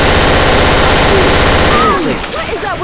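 Rapid automatic gunfire in Left 4 Dead 2, a loud, close, continuous stream of shots that cuts off after about two seconds, followed by quieter game sounds and voices.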